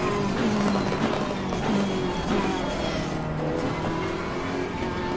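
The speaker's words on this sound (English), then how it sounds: "look at this car honking up behind me" Race car engines in a GT3 sim racing game at Imola, a continuous droning roar with shifting engine pitch as a car closes in from behind, steady and fairly loud.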